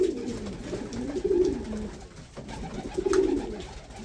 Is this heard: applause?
no